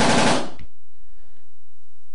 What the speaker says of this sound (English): all the way up to fully automatic mode at a rate of up to 12 rounds per second,